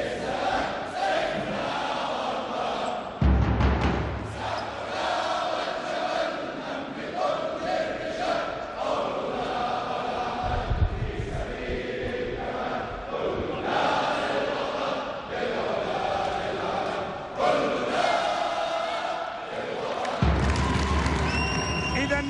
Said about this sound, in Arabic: السلام الوطني بحناجر الجماهير